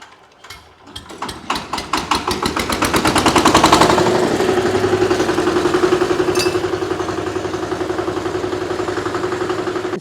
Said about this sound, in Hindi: इसका डीजल इंजन जो है कितना आवाज़ करता है।